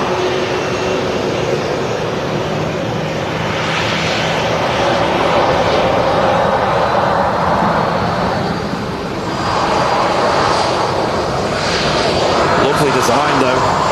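A Ryanair Boeing 737-800 in a special livery, its jet engines giving a steady, loud roar across a busy airport, with a person talking over the noise throughout.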